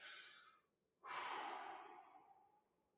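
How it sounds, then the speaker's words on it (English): Two deep breaths, a long airy exhale, a brief pause, then a deep inhale that slowly tapers off, close and quiet. "5 deep breaths right now."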